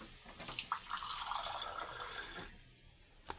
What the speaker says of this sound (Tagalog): Bigyan natin ng tubig, isang basong tubig.